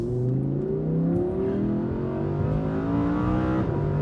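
Audi R8 RWS engine revving hard under acceleration, a loud, steady, rising engine note with stacked harmonics climbing in pitch, continuous and close with no talk over it.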